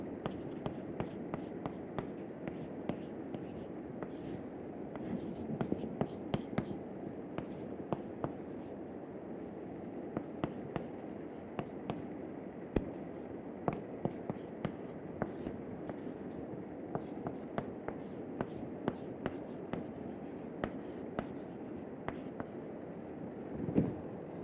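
Chalk or marker writing an equation on a lecture board: steady scratchy strokes with frequent short taps, continuous and moderately close over a faint room background.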